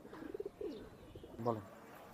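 Ferozpuri pigeons cooing in short, soft, close calls, with a voice speaking faintly nearby.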